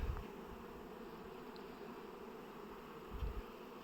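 Honey bees drone softly on a hive frame, a faint, steady insect hum with a couple of brief swells.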